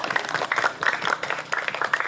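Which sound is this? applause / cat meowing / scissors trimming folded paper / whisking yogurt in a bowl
applause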